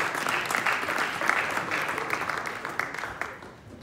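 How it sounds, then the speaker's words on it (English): Crowd applause at a boxing press conference, a dense, steady wash of clapping close by that holds for several seconds and then tapers off at the end. "big round of applause for Gabe Rosado."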